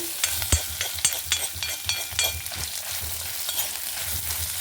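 Coriander seeds frying in a pan with mustard seeds and neem leaves, a steady close sizzle with light crackles and occasional sharp pops throughout.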